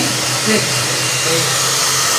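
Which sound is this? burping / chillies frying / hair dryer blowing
hair dryer blowing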